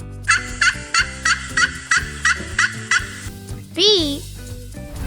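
A turkey gobbles in a quick run of about nine short, evenly spaced bursts, loud and close, then a brief sliding, squeaky vocal sound ends it.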